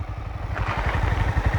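A Honda CBR 300 motorcycle engine runs steadily nearby, a low pulsing idle with rhythmic thumping, heard alone for a brief moment.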